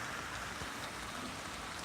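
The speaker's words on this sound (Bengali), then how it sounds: "দেখো আমাদের এখানে বৃষ্টি হচ্ছে" Rain falls in a soft, even patter, faint and continuous with no other sounds.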